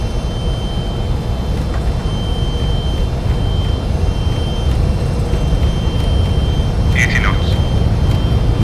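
Fokker 28 twin jet engines held at takeoff power in Microsoft Flight Simulator, a steady, loud, dense roar that stays unchanged throughout, with a brief higher whine near the end.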